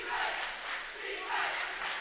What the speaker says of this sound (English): In front of a rowdy crowd once again.